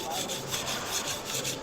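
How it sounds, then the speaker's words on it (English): A Misono UX10 70/30 right-handed kitchen knife drawn across a 220 grit whetstone at a low angle, giving a steady, close scraping rasp with a soft rhythmic pulse of repeated strokes and no talking. "This is a 220 grit stone."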